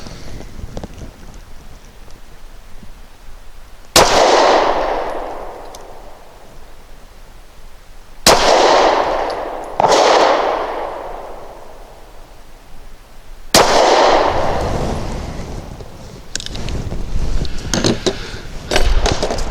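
Gunshots from a DB9 Gen 4 pistol firing Remington HTP 115 grain hollow point rounds outdoors: four sharp, loud cracks spaced a few seconds apart, each trailing off in a rumbling decay, with wind noise between.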